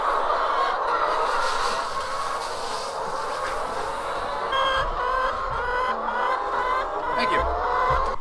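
A dense flock of farm chickens clucks and squawks continuously at close range, overlapping calls filling the air, with a few low rumbles and scuffs mixed in.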